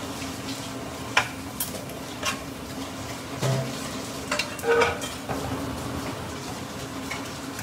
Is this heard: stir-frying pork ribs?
yes